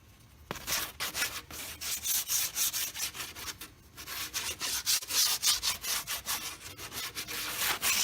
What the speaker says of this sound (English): I just finished up sanding all my edges